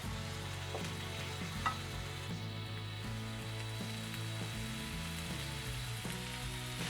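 Pork and whisked egg mixture fries in a wok for cauliflower pork fried rice, a soft continuous sizzle with faint stirring under a low background hum, no talking.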